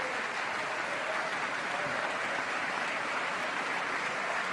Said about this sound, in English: Oh, he gets some applause. A standing ovation, no less.